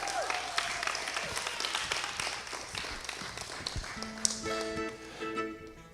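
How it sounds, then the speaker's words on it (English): Scattered, moderate clapping from a studio audience at a live gaming show greets two players, with light taps and a thin electronic tone rising near the end. "Give them a round of applause."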